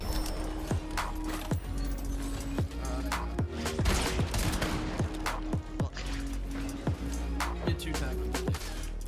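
Shotgun gunfire in Fortnite rings out as a run of sharp, closely spaced shots among other gameplay noise, fairly loud and continuous throughout.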